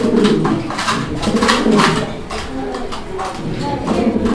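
Pigeons cooing at a bird market where Black Mundian breeding pairs are sold, repeated soft coos mixed with fluttering and scuffling amid nearby market noise.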